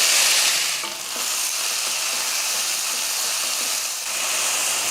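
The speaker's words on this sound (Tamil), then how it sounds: "எண்ணெய் காஞ்சதுமே கொஞ்சம் கருவேப்பில் போட்டு நம்ம தட்டி வச்சுருக்க வெங்காயத்தை சேர்த்துடலாம்" Crushed onions and curry leaves frying in hot coconut oil, a loud, dense sizzle that runs steadily throughout, dipping briefly as the pan is stirred.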